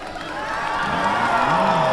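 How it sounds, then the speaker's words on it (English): Formula Student team crowd chanting and cheering beside the skidpad at an FSG event, a steady, fairly loud mass of voices with rising whoops throughout. "I'll let you hear the chants from the team."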